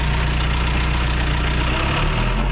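A John Deere 650K crawler dozer engine revved at high RPM during sensor calibration makes a loud, close, continuous diesel roar with heavy low rumble and a slight dip near the end, with no voices over it.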